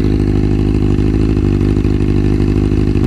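A warm motorcycle engine with a shorty exhaust idles steadily and close, a loud, even low rumble with a slight uneven lope and occasional small revs, with no talking.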